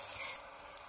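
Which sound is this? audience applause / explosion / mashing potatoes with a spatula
mashing potatoes with a spatula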